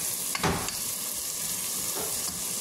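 White onions and garlic sautéing in Star margarine, a dense continuous sizzle close up with a few soft stirring scrapes, no voices.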